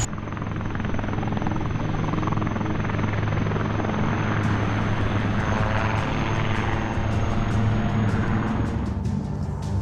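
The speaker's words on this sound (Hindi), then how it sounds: "लाइट कॉम्बैक्ट हेलीकॉप्टर प्रचंड भी एयरफोर्स के फ्लाई पास्ट का हिस्सा बनेगा" A Prachand light combat helicopter flies past during a Republic Day flypast, its rotor thudding loud and constant before the pitch shifts as it passes overhead.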